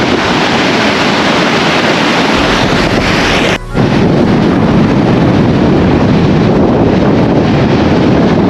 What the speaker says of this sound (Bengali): সমুদ্র কি পরিমাণ উত্তাল।